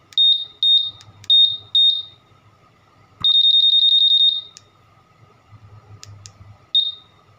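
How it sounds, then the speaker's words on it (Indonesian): A Honda Vario 150 motorcycle alarm gives four quick loud beeps, then a sustained trilling tone lasting about a second, followed by softer clicks and a final chirp, close to the microphone with no talk. "Alarm juga, ini alarm masih bisa respon."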